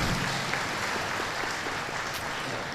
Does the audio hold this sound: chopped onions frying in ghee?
no